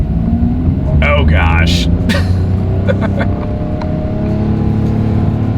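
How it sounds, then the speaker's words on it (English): A 2024 Mitsubishi Mirage G4 accelerates in the rain, its low engine drone and tire rumble steady and loud from inside the cabin, while a person briefly exclaims over it and a few squeaks cut through early on. "let's see how quickly we can get our new 2024 Mirage G4 here up to speed"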